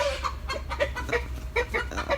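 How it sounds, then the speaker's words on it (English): An upset little Wyandotte hen with golden flecks, being chased, gives a run of sharp, agitated clucks and squawks close by, over a low steady background hum. "Well, that hen's upset."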